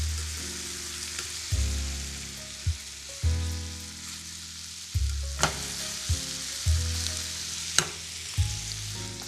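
A pan of flour frying and sizzling gives a steady hiss, broken by a series of rhythmic low thumps and clatters as the pan is shaken and stirred.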